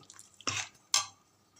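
A spoon stirs tempering into a pot of lentil and spinach dal, giving two short, close scraping swishes with a brief pause between them, quiet otherwise.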